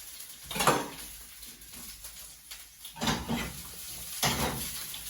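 Small new potatoes drop into a pan in a few soft, hollow knocks and rattles, with quiet pauses between clusters of clatter at close range.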